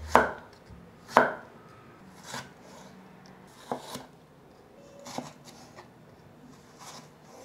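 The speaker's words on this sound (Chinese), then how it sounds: "把小黄瓜切片" A knife slices a cucumber on a cutting board in a handful of separate crisp chops, two sharp strokes up front and then softer cuts spaced out, close by and quiet.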